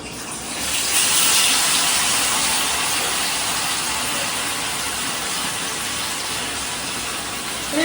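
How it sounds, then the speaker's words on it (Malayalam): Masala-marinated chicken leg sizzles in hot oil, a loud, steady crackling hiss that swells in the first second and then holds evenly with no voices. "അപ്പം എണ്ണ ചൂടായിട്ടുണ്ട്. അപ്പം നമുക്ക് ഫസ്റ്റ് കാല് തന്നെ ഇടാം."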